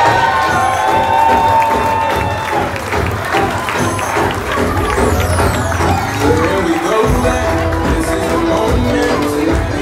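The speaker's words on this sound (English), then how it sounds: "Flower Girl, big round of applause for Milan Vaughn." Wedding reception guests cheer and applaud loudly as the wedding party is introduced, a dense crowd roar with whoops, shouts and clapping over music, sustained and close.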